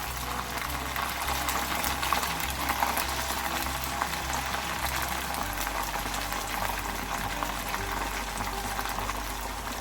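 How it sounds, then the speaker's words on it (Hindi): Chicken pieces frying in hot oil for a Coca-Cola chicken recipe, a steady dense sizzle and bubbling that runs unbroken and fairly loud, with a low hum underneath and no voices. "इसी तरह सारा चिकन मैं बारी बारी फ्राई कर लूंगी।"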